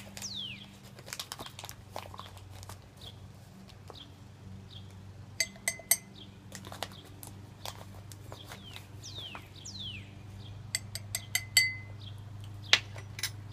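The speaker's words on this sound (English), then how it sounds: "into that we're going to put 2 tablespoons of baking soda, which is also known as sodium bicarbonate" Baking soda is spooned into a household drinking glass, sharp light clinks and taps of a spoon on glass scattered through the clip over a steady low hum, growing busier toward the end.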